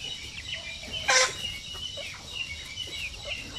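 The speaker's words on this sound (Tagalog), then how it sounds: "Tapos meron akong mga basilan dito na 6 months old, malapit na mangingitlog." Young Basilan chickens, six-month-old pullets close to laying, cluck and call from a backyard pen. One brief, louder call stands out above steady outdoor background noise, and fainter clucks come and go around it.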